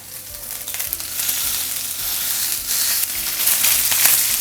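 Fish fillet searing in lemon butter in a skillet, a loud, close, continuous sizzle and crackle with a few scraping touches, no speech.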